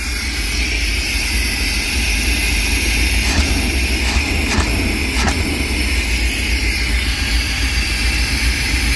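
A 1990 Chevy G30 van engine runs cold just after a spark plug change, a steady, loud, dense roar that holds evenly throughout with a few brief sharp ticks midway and no talking.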